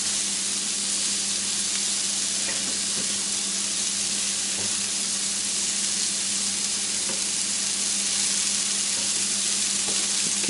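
Salisbury steak patties fry on medium heat in a pan, a steady, even sizzle and hiss close up, continuous and fairly loud with faint scrapes as they are flipped.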